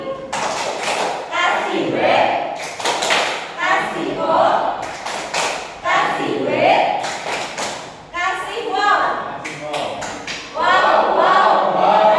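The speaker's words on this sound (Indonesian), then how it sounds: "Kita kasih tepuk wow untuk Pak Andi." An audience claps in bursts of rhythmic, group clapping mixed with loud, chanting voices, and the claps and shouts alternate in waves over twelve seconds.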